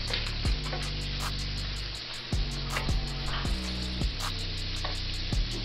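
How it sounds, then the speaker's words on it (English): Raw or precooked shrimp dropped into a hot pan for shrimp fried rice, giving a steady close sizzle and frying hiss with several sharp thuds and clatters of pieces landing and being moved, no talking. "So you just wanna put your shrimp in there like that."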